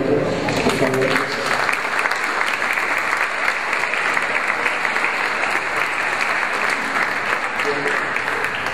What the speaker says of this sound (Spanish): les pido que demos un aplauso a Roberto, por favor.